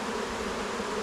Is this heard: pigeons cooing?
no